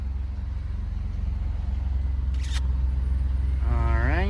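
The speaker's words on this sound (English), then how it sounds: "I seriously love how this car sounds." BMW E46 M3 engine idling, a steady low rumble throughout with a brief click partway and a rising whine near the end, no talk.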